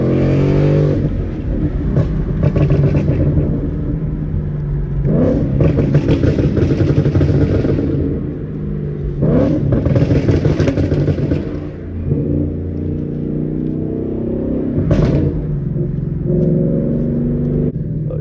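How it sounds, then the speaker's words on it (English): Loud 5.0 V8 car engine pulling hard in second gear, heard from inside the cabin, with repeated surges of roaring acceleration broken by sharp crackling backfires and brief drops as the throttle lifts, continuous and close. "Let's do a little second gear pull."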